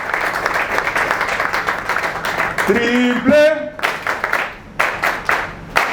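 A crowd at a political party meeting claps in loud, rhythmic bursts, with a voice calling out briefly in the middle before the clapping resumes in sharp, separated volleys.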